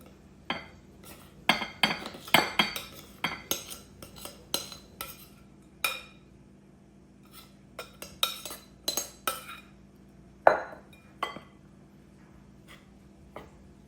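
Cold butter tossed into flour in a bowl, with a scattered series of close clinks and scrapes from a utensil against the bowl, some pauses between them, and no speech.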